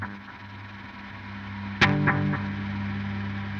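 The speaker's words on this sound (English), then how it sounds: "this is gonna increase the amount of repeats that our delay signal has." Ambient electric guitar through a Line 6 POD HD500x with a long delay: a single plucked note or chord rings out and repeats, the echoes trailing off over a sustained, washy tone with no voices.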